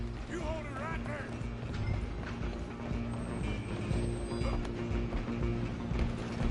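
Horse hooves clip-clop at a brisk, steady pace in the Western video game Red Dead Redemption 2, mixed with game music, train and mechanical noise, and voices talking over them.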